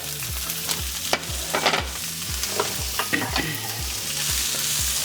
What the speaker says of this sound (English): the pan has been heated up, and so you see that oil is sizzling. We're gonna put the leeks in first.